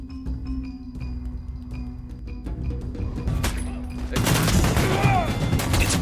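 Gunfire erupts in a restaurant shootout: a sharp sequence of shots cracks over a steady tone, then a denser, louder burst of crashing gunfire and debris takes over in the second half.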